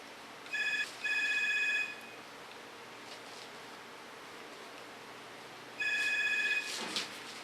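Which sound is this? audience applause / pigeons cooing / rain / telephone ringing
telephone ringing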